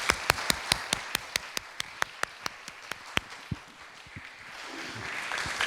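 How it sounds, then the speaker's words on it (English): After a health systems conference panel, one or a few people clap in a slow, distinct rhythm, the individual claps close and crisp before fading into a faint murmur of room noise. "I think a big round of applause is in order."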